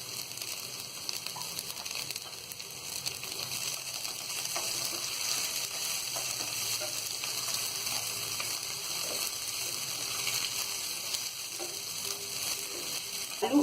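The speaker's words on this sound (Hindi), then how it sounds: "आलू और गोभी हमने तल लिए हैं और ये थोड़े गल भी गए हैं।" Potatoes and cauliflower fry in a pan for vegetable dalia, giving a continuous dense sizzle and crackle that holds steady throughout at close range.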